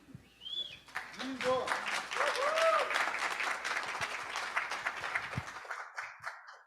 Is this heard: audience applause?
yes